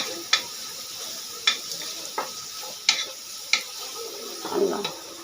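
Meat with sauce fries for biryani under a steady sizzle, punctuated by a series of crisp spoon scrapes against the pot as it is stirred, then a brief rustling clatter near the end.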